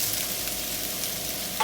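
A tablespoon of butter sizzles in a hot pan while shrimp and broccoli Alfredo is being made, giving a steady, close, crackling hiss with no talk over it and a brief brighter clink near the end.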